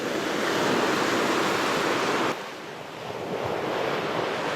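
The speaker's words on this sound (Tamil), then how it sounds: "அங்கே கடல், அங்கே தெரியுது கடல்." Sea waves at Eden Beach in Pondicherry roar as a continuous loud wash of surf, with strong wind buffeting the microphone and a brief dip in intensity midway.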